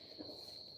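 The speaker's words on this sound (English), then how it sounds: "you can hear the crickets." Crickets chirp outdoors, a faint, continuous high-pitched trill that holds steady throughout the brief moment, with a soft low rumble of background noise beneath it.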